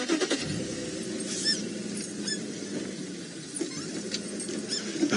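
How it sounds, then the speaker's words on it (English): A safari vehicle rumbles steadily off-road through the bush on an evening leopard-tracking drive, with a continuous engine drone and rattling bumps and no voices. "we're driving off-road through the bush"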